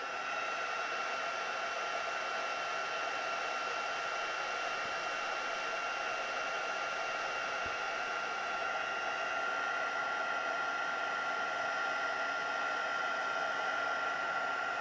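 Heat tool blowing hot air onto a stamped craft piece, a steady, even whooshing hiss running unbroken and fairly close throughout, with no talking.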